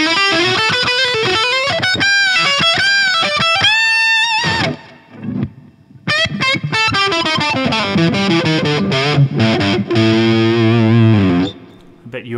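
Heavily distorted electric guitar riffs with sustained chords and bends, a brief near-silent break around the middle, then more driving distorted playing, loud and close.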